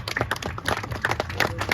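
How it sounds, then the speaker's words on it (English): Short burst of scattered clapping from a small outdoor crowd at a steam locomotive 1395 dedication on the Coopersville and Marne railway, uneven and moderately close. "let's give the ones that are here volunteers a round of applause"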